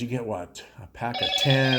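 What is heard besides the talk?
phone ringing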